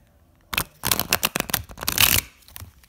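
Close-up shuffling of a tarot deck, a crisp flurry of rapid papery riffles and slaps lasting about two seconds, building to a dense burst before stopping, with no talking.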